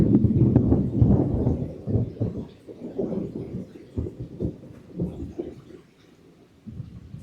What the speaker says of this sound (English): Okay, there's the thunder.